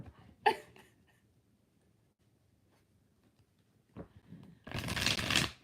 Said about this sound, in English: Five shuffles.